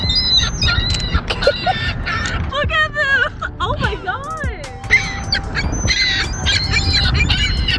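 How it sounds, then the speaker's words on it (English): Seagulls squawking and calling loudly close by as they are fed leftover restaurant chips in Toronto, a flurry of overlapping harsh cries with people talking underneath. "and we're feeding them to seagulls."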